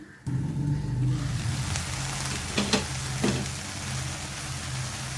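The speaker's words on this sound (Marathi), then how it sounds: "त्याच्यावर झाकण ठेवते आणि भेंडी शिजवून घेऊया आपण चांगली" Okra and onion cooking in a covered pan, giving a steady close sizzle and crackle that runs on with a few faint taps against the lid and no talking.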